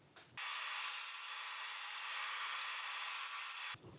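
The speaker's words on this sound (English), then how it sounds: "So over the bandsaw, I'm going to cut these first two lengths" Bandsaw cutting a length of pallet wood in one steady pass, a bright, continuous rasping whine lasting about three seconds, close and loud, beginning and ending abruptly.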